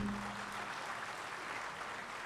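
Audience applause at an award ceremony as staff are called to the stage, a soft, distant wash of steady clapping lasting a couple of seconds.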